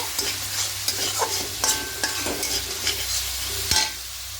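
Tomato and spices for fish curry fry in a pan, giving a soft continuous sizzle broken by repeated spatula scrapes and taps against the pan.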